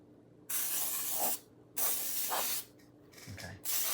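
Several long hissing bursts from a spray bottle coating a pan for holiday bread, heard close up, each lasting about a second with short pauses between them, plus a quick shorter spritz near the end.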